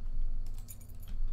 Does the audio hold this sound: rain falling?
no